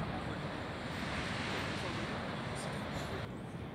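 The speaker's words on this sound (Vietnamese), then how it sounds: "Nghe thấy tiếng sóng ầm ĩ đấy, rất là dễ chịu." Ocean waves crash on the shore at Biarritz, near the old lighthouse: a steady, loud, broadband surf roar with wind noise, continuous throughout with no distinct pauses.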